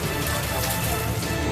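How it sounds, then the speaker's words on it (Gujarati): Heavy downpour in Himmatnagar, Sabarkantha, flooding streets, heard as a steady, dense hiss of pouring rain that stays loud and unbroken throughout. "સાબરકાંઠાના હિંમતનગરમાં ધોધમાર વરસાદ પડતા સહકારી જન વિસ્તારમાં પાણી ભરાયા"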